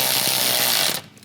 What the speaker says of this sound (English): I got a 13mm socket, and we'll tighten them down.